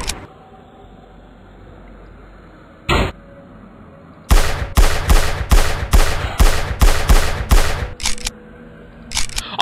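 Rapid gunfire from a zombie-fighting survival shooter, Vanish Rain: one lone shot, then a loud run of about ten evenly spaced, close blasts, with a final shot at the end.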